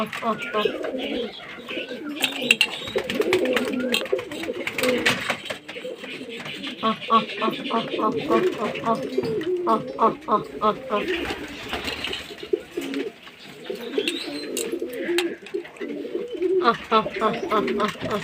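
Pigeons in a loft coo steadily and close by, with repeated soft calls and some chirps, while someone talks over them throughout.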